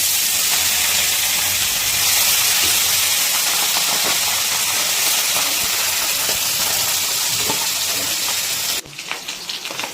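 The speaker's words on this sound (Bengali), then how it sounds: "বাকি মাছগুলো ভেজে দিচ্ছি" Fish sizzling and hissing steadily in hot oil in a pan, a loud continuous fry that cuts off abruptly near the end to a quieter, sputtering tail.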